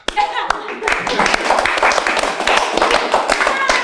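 A small group clapping in a talk-show studio, quick irregular hand claps close by, mixed with laughter and overlapping voices throughout.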